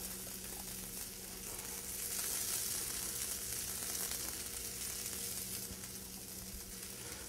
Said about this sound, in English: So we're just going to crisp up the potatoes here.